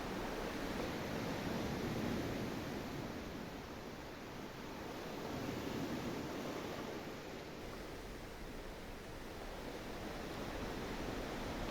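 Ocean waves roll onto a beach in a steady, faint wash of surf, swelling and easing gently with no voices.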